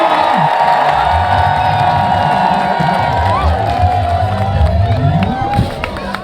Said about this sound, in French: Je vous prie d'applaudir pour le pape.